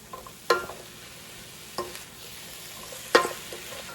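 Vegan lasagna filling being stirred in a pan, with three distinct scraping strokes over a low, steady cooking hiss.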